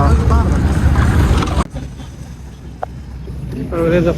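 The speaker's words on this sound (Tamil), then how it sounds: "பாருங்க, இது ஸ்பீட் போட்." A speed boat on the Thames in London gives a loud, wind-buffeted rumble that dominates the opening seconds, then drops to a softer drone with a brief knock. A voice speaks over the noise at the start and end.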